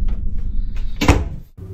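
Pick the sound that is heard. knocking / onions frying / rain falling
knocking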